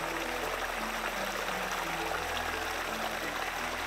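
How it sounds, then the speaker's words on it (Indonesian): Hot spring water at Kawah Putih Tinggi Raja flows in a steady, even rush that fills the whole clip. No voices are heard over the constant watery wash. "Ini mata air panas yang paling besar di sini."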